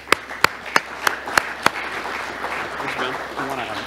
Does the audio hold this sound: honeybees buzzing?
no